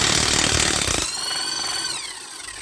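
A power tool on a 19 mm socket drives the axle bolt out of a Honda Activa scooter: loud, steady rattling hammering for about a second, then a high whirring spin as the bolt runs free.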